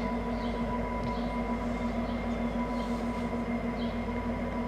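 VIA Rail passenger train 84 pulling out of St. Mary's station, a steady low rumble of rolling cars with a constant tonal hum, heard close and continuous with no voices.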